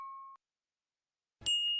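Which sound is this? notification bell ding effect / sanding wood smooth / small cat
notification bell ding effect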